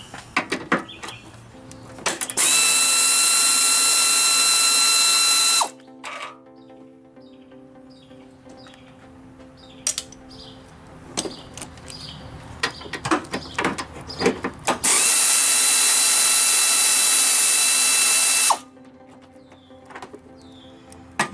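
Power tool or ratchet working 15 mm bolts on the radiator of a 2000 Pontiac Bonneville, two loud sustained whirring bursts of about three seconds each, with clicks, clanks and handling noise between them, close and without speech.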